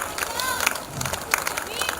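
Spectators at a women's cricket match give a player a round of applause, a dense, lively patter of many hands clapping together with crowd murmur and voices mixed in.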